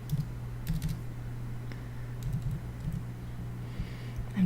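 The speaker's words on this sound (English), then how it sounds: "I'm just typing in the notes" Soft, scattered keystrokes tap on a computer keyboard while notes are typed in, quiet and irregular over a low steady hum.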